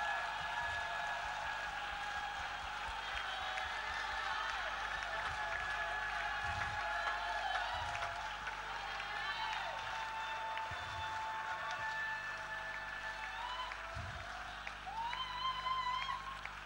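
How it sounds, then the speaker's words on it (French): A church congregation claps during worship at a French-language sermon service, a steady wash of hand clapping that runs the whole time alongside sustained musical tones. "Can we all clap hands?"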